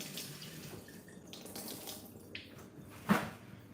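Blueberries rinsed under a running kitchen tap, a steady low wash of flowing water with a brief louder splash near the end, no talking.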